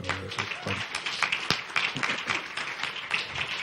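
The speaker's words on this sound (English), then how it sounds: "I think we should give the co-op, La Montañita, a round of applause as well for their work as well." Audience applause at an evening panel forum, a dense, steady patter of many hands clapping at close range for about three and a half seconds.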